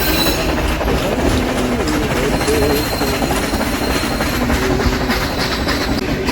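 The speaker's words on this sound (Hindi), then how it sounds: "ट्रेन कुन्नूर पहुंच रही है हमारी" The Ooty toy train, a mountain railway running from Mettupalayam toward Coonoor, rolls along with steady clickety-clack wheel rhythm, metallic squeals and engine rumble, close and continuous throughout.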